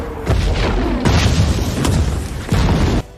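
Air strike explosions in a war film hit against Taliban troops: a series of deep, heavy booms with rumbling tails, loud and close, repeating roughly every second.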